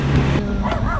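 A dog yips and barks a few times at close range on a rural five-acre property in Hawaii, mixed with a low hum and a bit of background voice.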